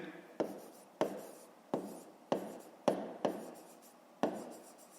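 A pen writes by hand on notebook paper during a fifth-grade maths exercise, giving about seven distinct scratchy strokes at irregular intervals, close and quiet, with no talking.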